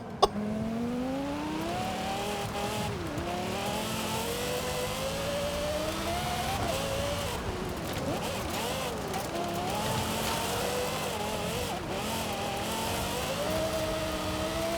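An off-road SUV in Forza Horizon 5, swapped to a Lexus LFA engine with turbos, howls continuously at high revs, its pitch rising and dipping as it slides and accelerates, loud and steady throughout.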